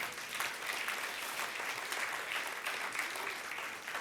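A church congregation applauds after a sermon, a dense, steady wash of many hands clapping that holds evenly throughout with no voices on top.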